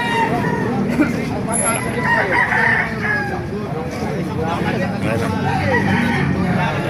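Lemon Sweater gamefowl roosters crow repeatedly amid clucking fowl in a busy yard, the calls overlapping near and far over a background babble of people talking.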